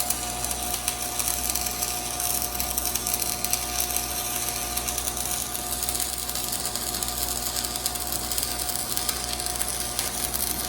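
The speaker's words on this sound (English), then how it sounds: "So I'm gonna go ahead and weld this up right now, tack weld this other side, and then weld her up" Welding on a three-point hitch for tractor forks produces a loud, continuous crackling hiss that holds steady and unbroken, close up and alone.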